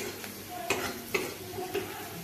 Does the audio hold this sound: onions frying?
yes